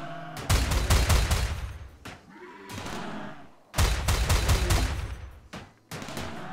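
Bursts of rifle fire from a RimWorld colony fight, rapid volleys of sharp shots in two long loud stretches separated by brief quieter gaps.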